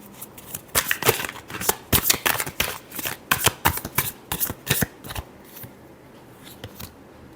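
Tarot cards riffle and snap in a rapid, uneven series of crisp bursts during a final shuffle, close and fairly loud, then tapering off into quiet near the end with no voices.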